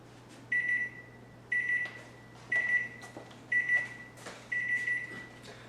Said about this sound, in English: All right, timer's up.